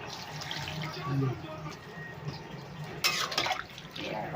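Water is poured into a mixed vegetable curry cooking in a pan, a faint trickling splash that brightens briefly near the end, with a voice murmuring in the background.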